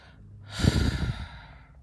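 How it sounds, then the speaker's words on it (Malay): One slow, heavy breath, close and fairly soft, rising and fading over a second or so, inside a Mercedes S600 Pullman V12. "tuan-tuan mungkin hanya boleh mendengar nafas saya, bunyi degupan jantung dan nafas saya."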